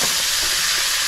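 Fish sizzles loudly and steadily in hot oil in a pan on a gas flame, a dense continuous frying hiss with no talking.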